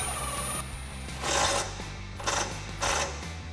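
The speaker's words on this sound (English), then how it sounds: "I am going to step it up to a 17mm socket. We're going to tighten that down." A bolt is tightened with a 17mm socket while fitting a Rough Country lift kit on a Jeep Wrangler TJ: three short, close bursts of rapid ratcheting clicks separated by quieter pauses.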